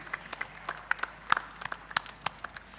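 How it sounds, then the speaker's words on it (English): Scattered, light applause for valedictorians at a Grade 10 valedictory ceremony, individual claps distinct and fairly faint, irregular rather than a full roar. "A big round of applause for all the valedictorians for rocking the stage."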